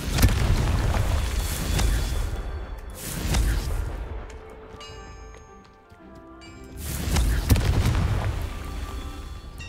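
Repeated booming blasts from the Confringo spell in Hogwarts Legacy, two heavy bursts a few seconds apart with a quieter rumbling stretch between them, loud and close.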